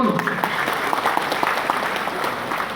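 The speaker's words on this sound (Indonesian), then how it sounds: "Tepuk tangan dulu" A crowd of teachers and guests at a Palembang teachers' association gathering applaud together, a loud, dense stretch of clapping held steady, with a few voices faintly mixed in.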